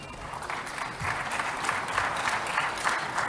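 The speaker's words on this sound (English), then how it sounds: "As he comes up, we can give him a round of applause" A conference audience applauds to welcome a panelist to the stage, a steady, even clapping from a seated crowd that carries on without a break.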